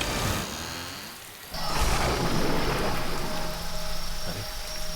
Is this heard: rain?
yes